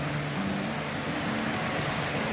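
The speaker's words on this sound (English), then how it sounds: "Nice waterfall for the evening noise maker" A small waterfall beside a campsite on the Coppermine Trail near Bridal Veil Falls, a steady even rush of falling water with no breaks or voices, filling the air at a moderate, constant level.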